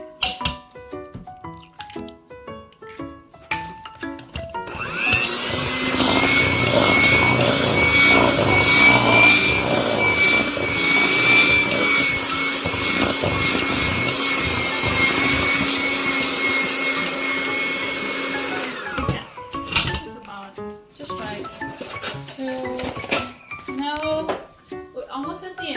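Electric mixer beating pound cake batter as the last egg goes in, a steady loud whirring drone with a faint high whine that runs for about fourteen seconds, with speech and kitchen handling noises before and after.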